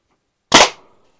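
A Byrna TCR air launcher fires a single 3.8 gram Glassbreaker round, a sharp, loud pop with a quick fading tail, heard alone.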